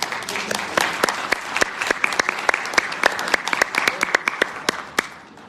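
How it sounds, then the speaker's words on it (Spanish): A small audience applauds a guest named Tere at a talk, with distinct, close hand claps ringing out over softer group clapping and a few murmured voices underneath, fading toward the end. "Un aplauso para Tere."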